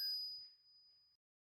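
A single bright bell ding notification, clear and close, ringing out and fading over about a second.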